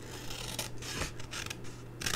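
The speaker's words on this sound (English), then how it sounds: "this paper is quite difficult to look at and see where you're cutting" Scissors snip and slide through craft paper for a pocket tissue gift box, with several close, crisp cutting strokes and light rustling and no talking.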